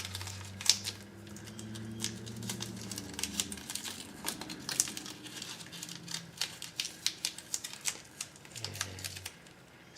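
A strip of tape is crinkled and crushed into a ball by hand, giving a string of close, sharp crackles and rustles that quicken toward the end, with a low tonal hum in the background.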